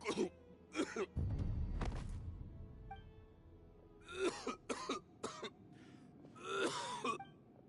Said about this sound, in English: Why is he coughing so much?